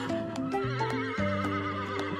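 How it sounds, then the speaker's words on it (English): A horse neighs loudly in a long, wavering whinny, with sharp clip-clop hoof knocks scattered through it and no talking. "It's a horse."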